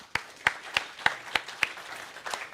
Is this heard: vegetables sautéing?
no